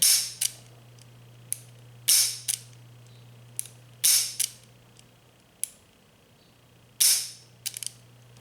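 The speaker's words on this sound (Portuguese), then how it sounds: "O mecanismo de disparo na ação dupla tem um peso adequado e é muito consistente." A Taurus 837 seven-shot revolver dry-fired in double action, giving about nine sharp metallic clicks of the trigger and hammer at irregular intervals, close and crisp over a faint steady hum.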